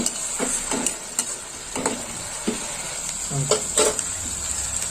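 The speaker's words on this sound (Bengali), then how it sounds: "এবার একটু পেঁয়াজটা লাল লাল করে ভাজা হবে" Steady frying sizzle of onions browning in a pan with whole spices, a constant high hiss, broken by several scraping stirs of a utensil against the pan.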